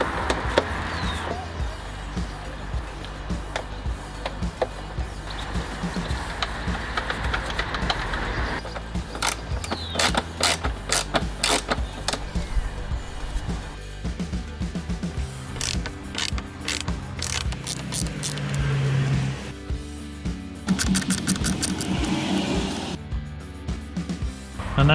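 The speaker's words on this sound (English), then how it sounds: "So just undo those 6 screws, and they remain captive once you've undone them." Six captive screws being undone on the engine cover of a Mercedes B-Class during a service, heard as a long run of close, busy mechanical clicks and ratcheting with tool handling and short bursts of tapping throughout.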